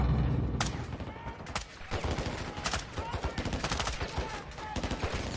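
Rapid bursts of automatic gunfire and single shots from a Modern Warfare 2 campaign firefight at a gate and wall, loud and dense throughout, with battle sounds layered over one another.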